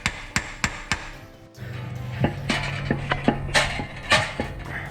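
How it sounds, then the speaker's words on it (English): Metal parts of a machine being fitted by hand, with a flywheel pushed onto its seat on an engine: a series of sharp knocks and taps, near and fairly loud, with a low steady hum through the second half. "On goes our machine flywheel."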